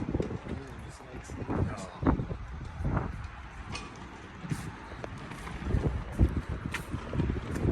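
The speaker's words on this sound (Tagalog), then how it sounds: "Pasensya na, malakas ang hangin." Strong wind buffets the microphone in low, rumbling gusts, mixed with people talking and some passing traffic nearby.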